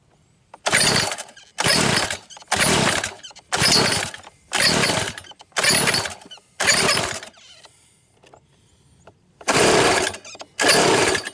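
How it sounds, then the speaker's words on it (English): A two-stroke Zenoah engine with a cooling jacket, powering a jet boat on a river, fires in loud, buzzy bursts of a second or so each, separated by quiet gaps and close to the listener. "Good old two-stroke Zenoa with a cooling jacket."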